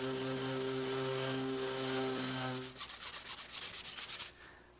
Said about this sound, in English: I want to turn to my sander and feather all the edges so that they just blend in with the wood